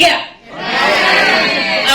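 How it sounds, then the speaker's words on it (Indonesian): A press conference audience for the film Heartbreak Motel shouts a single word in unison on a count of three, a loud, brief collective yell that swells and holds, with a quick voice just before it. "Kita teriakinnya bareng-bareng dalam hitungan ketiga ya"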